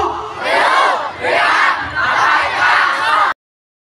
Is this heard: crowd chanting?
yes